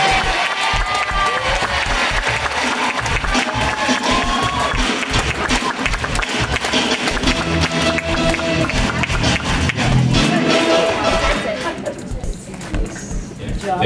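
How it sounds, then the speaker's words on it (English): Audience at a Filipino community induction night in Vancouver breaks into sustained applause mixed with cheers and chatter, a full hall of clapping that carries on for many seconds before thinning near the end. "can I get a big round of applause for our Consul General and"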